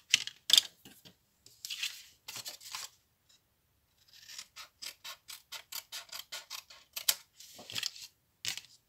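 Scissors snip through paper for a 3D pop-up exploding box, a close run of sharp crisp cuts in short bursts, then a pause and a quicker rhythmic series of snips, with no talking.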